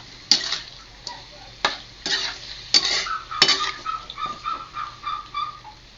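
Steady stirring of soy sauce in a pan with metal utensil clinks and scrapes, light sizzling underneath, a few sharp taps spaced through the clip.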